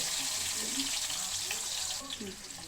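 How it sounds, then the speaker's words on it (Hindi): Onions frying in a pan while goat meat is cooked give a dense, steady sizzle, with a faint voice murmuring underneath. "ये प्याज में ऑनियन में यहाँ पर फ्राई करूँगा"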